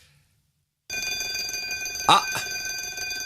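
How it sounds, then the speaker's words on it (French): The voting bell in the European Parliament rings continuously after a moment of silence, a bright, steady electronic ringing with clear harmonics, moderately loud, with a brief exclamation from a voice partway through. "On entend la sonnerie du vote au Parlement européen."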